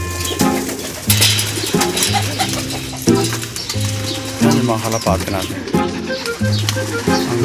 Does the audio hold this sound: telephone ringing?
no